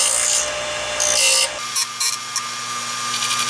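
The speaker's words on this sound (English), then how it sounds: "So what I'm going to do is my bench grinder to clean this off." A bench grinder takes excess metal off a key: a harsh high grinding whine in bursts against a steady motor hum, close by, with short scraping contacts toward the end.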